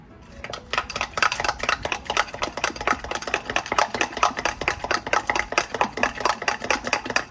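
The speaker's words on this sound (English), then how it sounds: "You mix it up with a spoon, don't need a mixer or anything like that." A spoon stirring pecan pie filling in a bowl, producing steady rapid scraping and clinking strokes in a continuous rhythm, close and fairly loud with no talking.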